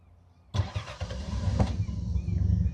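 A 1964 Austin Healey 3000 MK2 cranks via push-button start and fires almost instantly, settling into a steady, throaty idle recorded up close and loud, with no talking.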